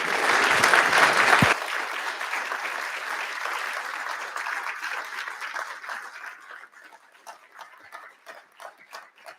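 Audience applause welcoming a judge to the lectern at a university free-speech lecture, a loud burst of clapping for the first second or so, then a sustained round that slowly thins into scattered claps.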